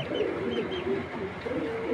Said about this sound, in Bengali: তো এই দুইটা হলো একই ঘরের কবুতর